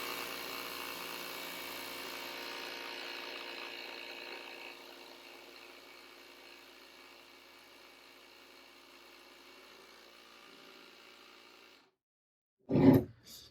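A Ryobi R18MI cordless inflator runs with a steady mechanical whir and buzz, loud at first and then quieter, before it stops and a short sharp clunk follows near the end.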